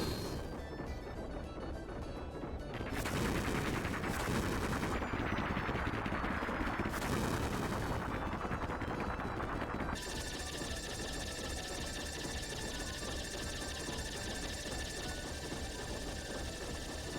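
Rapid gunfire in Final Fantasy 7 as a blimp's propeller is shot at in the Speed Square minigame, with a dense continuous burst of game shots and noise that switches to a different steady texture partway through, loud and without talk.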